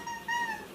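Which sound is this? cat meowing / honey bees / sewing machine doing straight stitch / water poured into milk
cat meowing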